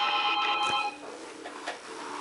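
Telephone ringtone with a bright, sustained tonal ring at moderate loudness, heard alone for about two seconds with a few faint clicks.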